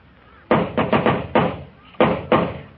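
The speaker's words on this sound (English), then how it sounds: "Oh, if you're going to knock, knock." Knocking on a door as a radio drama sound effect: loud, close raps come in an uneven group of five, then two more after a pause.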